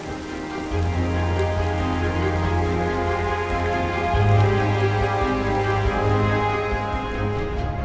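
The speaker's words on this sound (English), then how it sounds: "high winds and rain bombarded the area" Steady, dense rain drums on a surface close by during a lakeside storm in Manitoba, with heavy rain and high winds sustaining a continuous wash that briefly swells midway.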